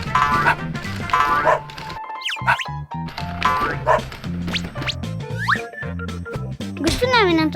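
Dogs bark in short, yappy bursts among cartoonish boings and bouncy thuds near an inflatable bounce house, with voices talking in between.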